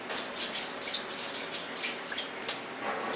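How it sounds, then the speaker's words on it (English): Oil pours and splashes steadily into a shaping machine at close range, a soft continuous trickle with small splatters and drips scattered through it. "So they're splashing out a little bit."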